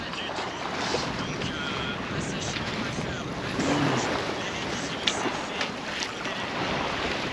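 A sailboat moves under sail at sea. Steady wind and rushing water fill the scene, with faint voices now and then.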